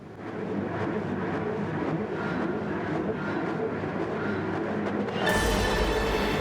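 Race cars in a racing video game pulling away from the start at Trial Mountain, a loud sustained engine roar that builds and shifts near the end.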